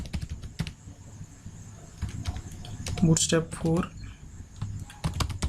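Code is typed on a computer keyboard, with quick clusters of close key clicks and a brief stretch of a voice talking partway through.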